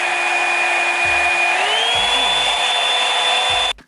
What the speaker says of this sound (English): It reminds me a lot of a hotel blow dryer